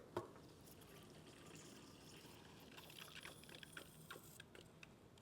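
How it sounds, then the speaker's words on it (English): Faint trickling of water dribbling steadily through a filter into a cup, quiet and close, with a few soft drips. "the sound of the water coming through the filter and is going into the cup"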